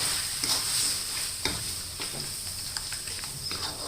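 Pork panang curry being stirred in a pan, with a spoon scraping and clicking against the metal in irregular strokes over a steady soft frying sizzle, close and fairly quiet with no talking.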